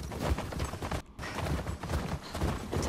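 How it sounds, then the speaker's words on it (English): Horse hooves clip-clopping at a gallop in the video game The Last of Us Part II, a steady rapid rhythm of thuds that runs throughout and drops out briefly near the middle. "Yo, get back on your horse before you get trampled."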